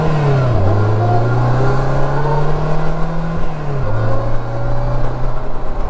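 A 2020 Polaris Slingshot with the E-Gear transmission accelerates on open streets. The engine drone rises in pitch, drops at two distinct gear changes and climbs again, heard steadily from inside the vehicle.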